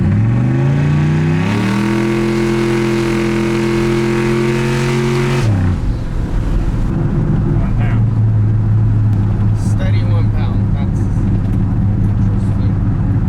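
A loud turbocharged LS engine in a street truck revs up and holds a steady high pitch for a few seconds, then drops back to a rough idle with clicks and rattles.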